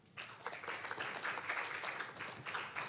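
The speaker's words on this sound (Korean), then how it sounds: "열정적인 발표를 해주신 김찬호 의장님께 다시 한번 큰 박수 부탁드립니다" Audience applause at a youth panel session on Korean peninsula peace and the UN Sustainable Development Goals, a steady, moderately distant wash of clapping that starts abruptly and holds for about three seconds.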